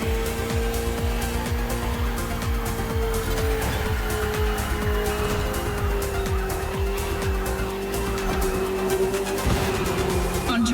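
Ferrari 488 GT3 race car and KTM RC16 motorcycle racing on a circuit in The Crew Motorfest video game, a steady high engine whine rising in pitch with tire squeal, continuous and loud throughout.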